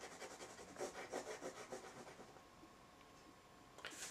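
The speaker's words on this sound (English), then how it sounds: "It will also obviously allow you to rub out" A stylus rubbing out writing on an e-pens mobile board, a soft, rhythmic scratchy rubbing in a series of short strokes, close and fairly quiet, trailing off near the end.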